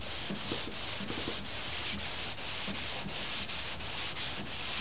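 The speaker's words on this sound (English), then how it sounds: "the sandpaper is hitting all the way across." Sandpaper rubbed by hand across a scale model SR-71 aircraft, a steady close scratchy rasp of repeated back-and-forth strokes running continuously without pause or speech.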